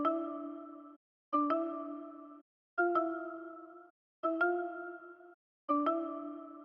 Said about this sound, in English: First texture I added is this kind of mallet sound